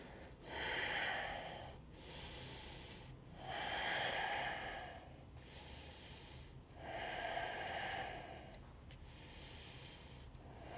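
Deep yoga breaths during a warrior pose flow: slow, audible inhales and exhales alternate in a steady rhythm, close and fairly soft, with no speech over them.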